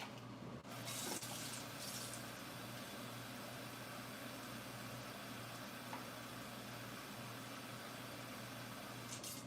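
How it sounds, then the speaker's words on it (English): Tap water rushing into a water bottle during a morning routine: a steady, close, continuous pour that runs unbroken throughout, with no talking. "So go ahead and fill up my water bottle to take one into the bathroom"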